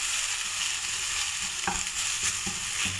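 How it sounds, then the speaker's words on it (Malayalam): Mustard seeds and fenugreek fry in a hot pan with a continuous sizzle, broken by several sharp pops and spatters and light stirring scrapes, close and fairly loud. "നമ്മൾ ചിക്കൻ്റെ ഉലുവയും കൂടെ ഇട്ടാണ് കടുക് വറുക്കുന്നത്"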